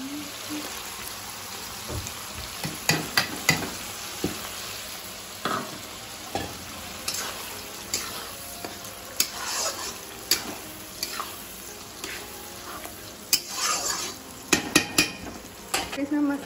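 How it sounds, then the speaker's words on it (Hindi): Onions and masala frying in a pan are stirred with a metal spoon, giving repeated clinks and scrapes against the pan over a continuous sizzle, close and busy throughout. "प्याज पूरा गल गया है, अब इसमें भी डाल देते हैं मसाला"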